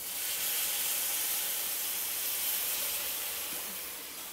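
Mutton hits hot fried masala in a pan and sets off a loud, steady sizzling hiss that stays strong throughout and tapers slightly at the end.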